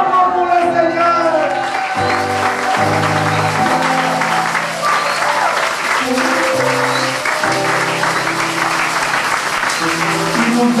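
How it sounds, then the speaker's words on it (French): A church congregation applauding and cheering for the Lord, dense sustained clapping with voices shouting and calling out over it, loud and continuous throughout. "Acclamons pour le Seigneur."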